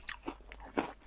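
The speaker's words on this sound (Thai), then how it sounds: "ตำแคบหมูกรอบครับ" Crispy fried pork rinds are pounded in a mortar for a Thai seafood papaya salad, giving a few quick, close, dry crunches in short bursts.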